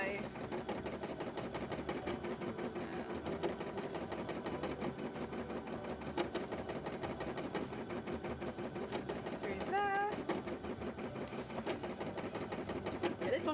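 An embroidery machine stitches a one-colour design with a steady, fast mechanical chatter that runs throughout at moderate volume, with a brief soft squeak near the middle.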